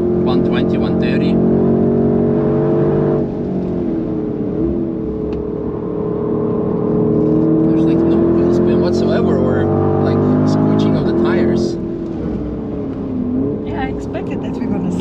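A fast SUV accelerates hard on the Nürburgring, heard from inside as a loud, steady engine drone that climbs in pitch in stages with gear changes while people talk over it.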